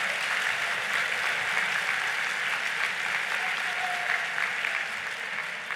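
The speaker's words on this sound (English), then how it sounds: "Do me a favor, please applaud your neighbor." An audience at the Netroots Nation 2018 progressive conference applauding during a keynote by Mayor Bill de Blasio, with dense, sustained clapping from a large crowd filling the room, steady throughout and fading slightly near the end.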